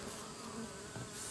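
Japanese honey bees clustered in a ball hanging from a roof give off a steady, close, continuous buzzing hum.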